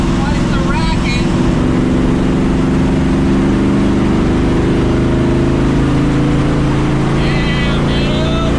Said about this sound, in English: Man, this car makes quite the racket.